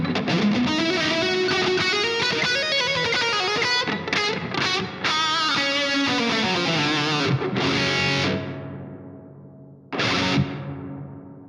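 Distorted electric guitar riffs and sustained chords run through a spring reverb via a Two Notes Torpedo Captor X 16-ohm load box, loud and continuous, with short gaps and a final chord decaying into a splashy tail.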